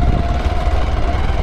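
A motorcycle engine idles steadily and loud, a continuous low rumble recorded close up on an off-road descent, with no talking.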